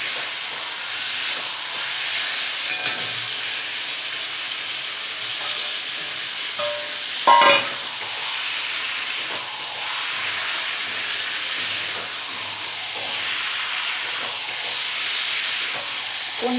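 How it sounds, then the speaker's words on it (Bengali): Fried paneer stir-fried into a masala paste for a potol, potato and paneer curry gives a steady broad hiss of steam and sizzling, with a couple of brief clinks of the spatula against the pan. "এখন আমি এর মধ্যে ভেজে রাখা পনিরগুলো দিয়ে একটু কষিয়ে নেব"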